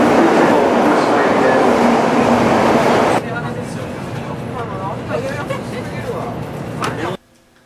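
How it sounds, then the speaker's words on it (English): Interior of a Japanese bullet train running from Osaka to Hiroshima: a loud steady rumble and rushing hiss, then a quieter cabin hum with faint clicks and chatter before it cuts off. "We take the bullet train to Hiroshima."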